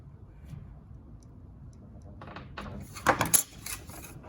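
Knife scoring through a thin wood veneer patch during furniture veneer repair: a quiet room, then a short run of faint scraping cuts followed by a few sharper close clicks and snaps.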